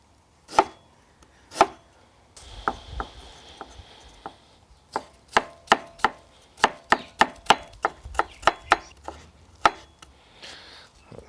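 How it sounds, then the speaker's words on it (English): A knife cutting vegetables into fine matchsticks on a board, first a few spaced chops and then a fast, close, even run of crisp strikes. "And then we'll turn these into fine matchsticks."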